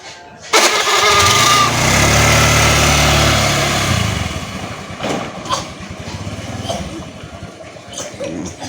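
A motorcycle engine kicks over and roars loudly for several seconds in a comedic Sundanese rural setting, then settles into a steady, slightly uneven running rumble.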